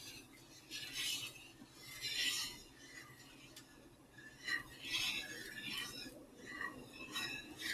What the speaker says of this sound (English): Vigorous whisking.